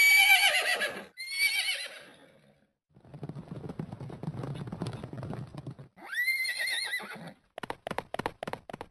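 A horse whinnies loudly twice with bright, shaking calls, then its hooves clip-clop in a quick, steady rhythm, heard alone with no talk.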